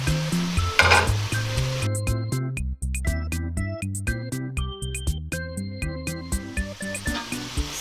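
Bitter gourd (ampalaya) sizzles in a pan with pork and is stirred, a steady frying hiss running throughout beneath loud background music.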